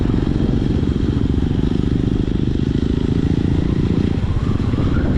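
A Royal Enfield motorcycle on a ride, its loud, steady, throbbing engine rumble and wind noise filling the whole stretch without a break, close up as if recorded from the rider's seat.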